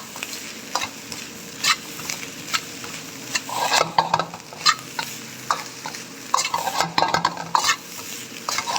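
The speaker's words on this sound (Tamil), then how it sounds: "நல்லா வதக்கி விடணும்" Chicken rice with masala stir-fried in a pan, with spring onion added near the end. Close sizzling runs throughout under repeated scraping stirs from a utensil, with no talking.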